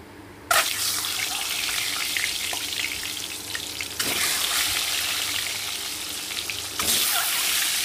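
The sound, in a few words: eggs added to hot oil, frying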